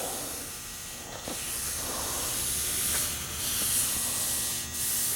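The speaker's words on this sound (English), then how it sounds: "Then we can just wipe that down with MEK just like that." Cloth rubbing steadily over aircraft covering fabric on a Kolb Mark III airframe while it is wiped down with MEK solvent, making a continuous close hiss and swish with no speech.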